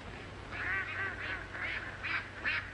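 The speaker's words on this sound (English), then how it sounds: "Look at those ducks." Ducks quacking outdoors in a 1932 comedy short scene, a run of about six nasal honking calls in a steady rhythm over a constant low hum, moderately loud and alone without talk.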